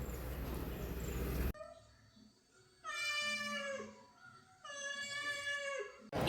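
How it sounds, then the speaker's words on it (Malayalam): A cat gives two long, clear meows close by, each drawn out for about a second with a quiet pause between, after a stretch of louder background noise. "നമ്മുടെ പൂച്ച ഓടിയെത്തിയിട്ടുണ്ട് ഇവിടെ"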